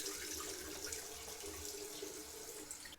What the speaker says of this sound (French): Donc la pierre d'allure, bien rincer après l'application.